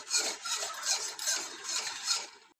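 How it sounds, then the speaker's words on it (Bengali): A spoon scrapes rhythmically through melting, foaming sugar caramel in a pan, each stroke a raspy swish repeating about every half second, close and steady with no voices. "ক্যারামেলটা নাড়তে নাড়তে এটা ফেনা ফেনা হয়ে এসছে"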